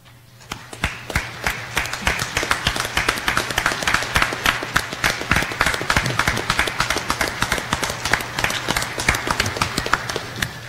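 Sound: audience round of applause at graduation ceremony

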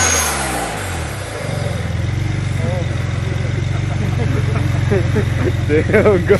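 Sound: 2007 BMW 335i turbos spooling up with dual cone intake

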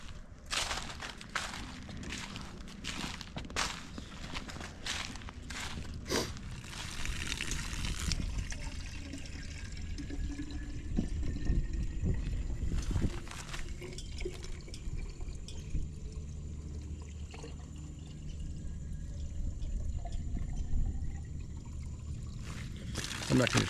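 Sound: water running from a tap at a frozen campsite

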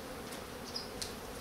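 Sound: honeybees buzzing while passing through a hive grid

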